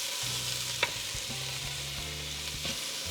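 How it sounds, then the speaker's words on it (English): Italian sausage meat browning in a pan, a soft steady sizzle under low rumbling with a few sharp clicks of a utensil breaking it apart, fairly quiet and close, no speech. "we're just browning up the sausage"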